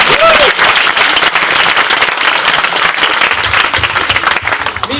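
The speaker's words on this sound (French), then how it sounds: "On peut l'applaudir, c'est bien." An audience applauding at a karate school demonstration, steady close clapping from a crowd, with some talk underneath.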